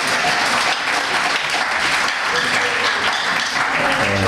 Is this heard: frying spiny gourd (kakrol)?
no